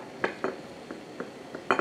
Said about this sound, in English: Just gonna use a knife and push down the squash.